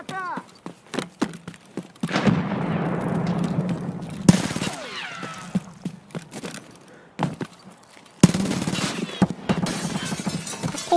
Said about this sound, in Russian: Нет, граната!